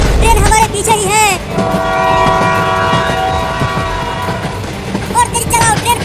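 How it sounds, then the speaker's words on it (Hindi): A cartoon train bears down from behind, its horn blaring in a long, loud sustained blast with a rumbling rail clatter beneath, framed by frantic, shouting voices just before and after. "और तेज चलाओ, ट्रेन पास आती जा रही है।"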